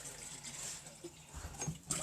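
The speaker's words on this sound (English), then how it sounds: "So I'm just gonna put a little bit of water in here." Water is poured into a blender canister holding berries, a soft steady trickling and splashing close by, fairly quiet with a brief gurgle near the end.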